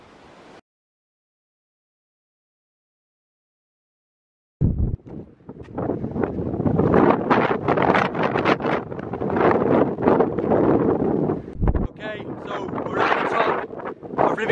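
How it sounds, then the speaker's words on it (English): Strong wind on Rivington Pike hilltop buffets the microphone in heavy, rumbling gusts after a brief pause, loud and continuous with roaring bursts. "It's very windy now again"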